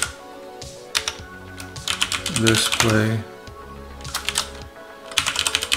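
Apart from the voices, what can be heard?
typing on a computer keyboard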